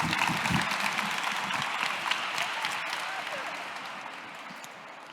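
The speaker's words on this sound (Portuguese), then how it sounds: "Vocês querem palmas?" A classroom of students applauds, a dense, steady wash of clapping that holds for several seconds and gradually tapers off toward the end.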